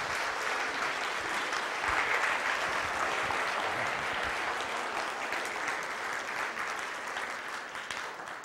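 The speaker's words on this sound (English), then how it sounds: "Give him a round of applause" A crowd applauds a graduate at a church graduation honoring, the clapping a steady, dense wash of many hands heard from some distance, fairly quiet and sustained before slowly thinning.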